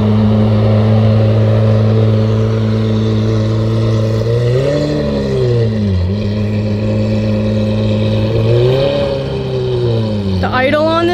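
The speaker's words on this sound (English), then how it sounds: "I just heard a V12 Lamborghini." A Lamborghini Aventador's V12 engine idles loudly on a New York City street, its deep steady hum rising in a few short revs before settling back.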